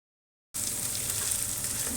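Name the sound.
onions frying with ginger garlic paste, sizzling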